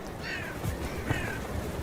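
Two or three harsh caws from crows outdoors, moderately close, over a steady background hiss.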